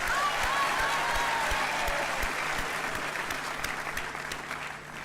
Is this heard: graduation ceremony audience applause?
yes